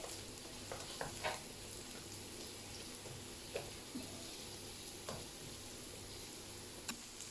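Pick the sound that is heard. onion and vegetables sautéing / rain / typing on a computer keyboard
onion and vegetables sautéing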